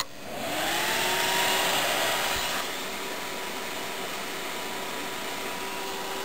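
An old computer with an ECS motherboard powers on after its power pins are shorted with a screwdriver. Its fans spin up into a loud, steady broadband whir with a faint tonal whine, then settle to a slightly quieter constant hum.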